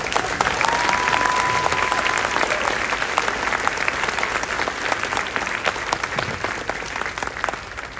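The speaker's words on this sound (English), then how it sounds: "How about a round of applause for our band students?" Audience applause for a high school concert band at a spring concert, steady dense clapping from a large crowd that holds for the full stretch, with a faint sustained tone early on.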